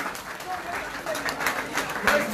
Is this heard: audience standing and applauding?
yes